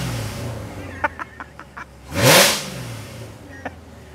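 A single short C7 Corvette V8 engine rev swells and drops away, raspy, bracketed by a few sharp clicks and a low idle rumble.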